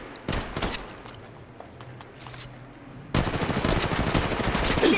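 Rapid automatic gunfire in the mobile shooter game Apex Legends Mobile, a few sharp bursts followed by a quieter lull, then a dense sustained volley of shots crackling loudly to the end.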